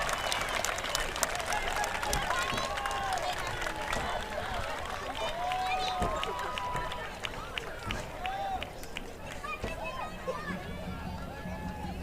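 A crowd in the stands at a high school football game applauds the homecoming court, a broad, steady clapping mixed with cheers and chatter, while a public-address voice rings through the stadium.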